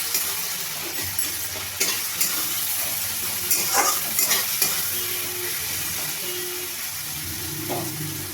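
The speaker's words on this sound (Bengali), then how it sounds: "আমি পেঁয়াজ, টমেটো আর রসুন কুচি, কাঁচা লঙ্কা এগুলোকে ভালো করে আমি ভেজে নেব।" Chopped onion, tomato, garlic and green chilli fry in a pan with a continuous sizzle, broken by occasional spoon scrapes and stirring knocks.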